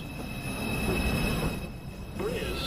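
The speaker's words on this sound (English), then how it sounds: "Express 2 train. Approaching the station" An NYC Subway express 2 train pulls into a station, its steel wheels squealing in thin sustained tones over a steady rumble of rolling cars, loud and close, with a brief shift in the squeal near the end.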